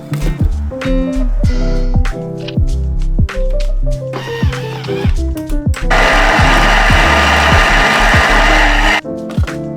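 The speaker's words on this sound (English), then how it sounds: "I'm transferring my potato and onion chunks into a food processor." A food processor chops potato and onion chunks in loud repeated pulses, each a short grinding burst with clunks between, then one longer continuous whirring run near the end. No speech.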